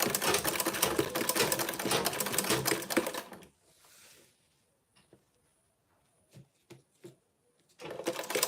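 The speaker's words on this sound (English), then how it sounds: "I'm going to sew on the same stitch that we used to base this to the zip" A sewing machine runs fast for a few seconds while stitching a zip, close and steady. It stops for a stretch of near silence broken by soft clicks and handling taps, then starts stitching again.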